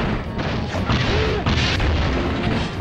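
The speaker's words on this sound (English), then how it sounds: "And I'm totally wasting all my missiles." Deep booming missile explosions from the Crash Bash video game, several heavy blasts in quick succession over constant game noise.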